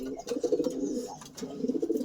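Racing pigeons cooing in a loft, a steady run of low throaty coos close by with a few soft rustles between.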